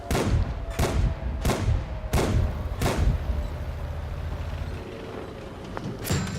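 A series of five heavy, evenly spaced booms from artillery shells striking a tank in the game World of Tanks, loud and close, followed by a quieter rumbling stretch and one more impact at the end.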